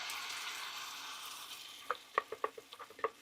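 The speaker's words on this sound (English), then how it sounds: "It's a beautiful sizzle." Onions and serrano chiles sizzle steadily in a pan, a dense hiss that fades slightly before a few sharp pops and crackles break through near the end, with no talking.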